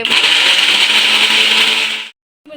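A mixer grinder whirs loudly as it blends tomatoes for gravy, a steady high-pitched motor drone running for about two seconds before cutting off abruptly, then briefly restarting.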